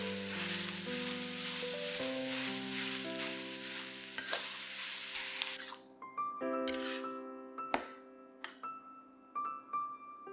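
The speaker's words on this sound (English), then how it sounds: "When the bottom of the beef is brown, flip them over and brown the other side as well." Beef browning in a frying pan sizzles steadily and loudly, then the sizzle cuts off and a few sharp clanks and scrapes of the pan and utensils follow in quieter air.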